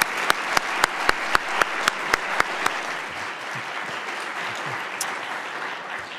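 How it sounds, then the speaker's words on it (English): Audience at a university president's forum applauds, a soft, fairly distant patter of clapping that holds steady and tapers off, with a few sharp knocks near the start. "Could we give them one more round of applause"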